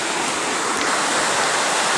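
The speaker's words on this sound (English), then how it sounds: "Oh, the waterfall." Tuitak waterfall in the Kumarghat area of Tripura, heard as a loud, steady broadband rush of falling water that fills the whole moment without a break.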